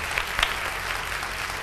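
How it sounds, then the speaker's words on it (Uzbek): An audience claps in steady, even applause, a sustained wash of many hands at moderate loudness with no speech over it. "Qarsaklar, qarsaklar."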